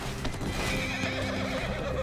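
Horse in Red Dead Redemption 2 whinnies loudly and close, the neigh riding over a steady run of clip-clopping hooves with game background sound beneath.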